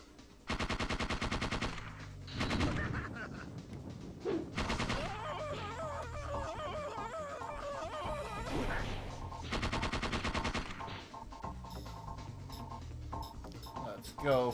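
Gunfire in Parasite Eve 2 at the Akropolis Tower: repeated rapid bursts of shots separated by short pauses, with mechanical clicks and someone talking between the volleys.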